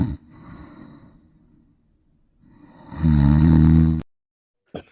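A snoring sound effect plays: a soft rasping breath, a pause, then a loud buzzing snore ending abruptly, followed by a brief clipped burst.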